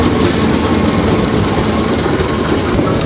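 Continuous heavy rumble of a train rolling past close by in Indonesia, steady and loud with low mechanical drone throughout.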